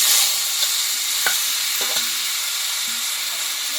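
Boiled papaya added to a pan of already fried ingredients and stir-fried, a bright steady hiss of hot oil with a few soft knocks and scrapes of a spoon.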